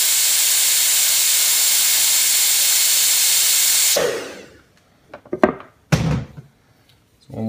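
Compressed air blasts onto a dented stainless steel appliance panel in a loud, steady hiss for about four seconds, then stops, followed by a few soft thuds and handling noises.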